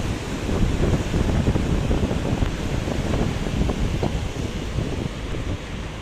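The flooded Mand river in Raigarh, Chhattisgarh rushes past in a continuous loud roar of churning water, steady and unbroken with wind buffeting the microphone.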